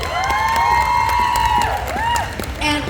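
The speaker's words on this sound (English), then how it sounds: "Round of applause for Miss Pixi Payne." An audience at a pinup pageant during a tattoo convention cheers and claps, with high drawn-out whoops and whistles riding over the crowd noise.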